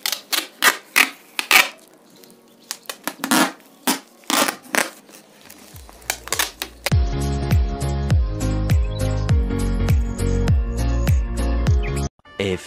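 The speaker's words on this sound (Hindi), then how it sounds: "देखो गाइस मैंने बिल्कुल गोल गोल टेप लगा दी है" Adhesive tape is pulled off a roll and wound round and round a person's head in a quick series of sharp, crackling rips, close up. Partway through, music enters and continues to the end.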